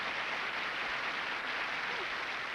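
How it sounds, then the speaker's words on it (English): A studio audience at a 1993 televised comedy awards show applauds a guest, producing a steady, dense wash of clapping that holds evenly throughout. "With applause like that"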